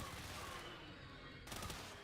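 Rapid automatic SMG fire in the video game Palworld, a dense continuous burst of shots with a loud, steady texture throughout.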